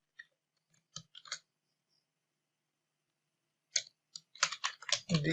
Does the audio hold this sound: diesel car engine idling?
no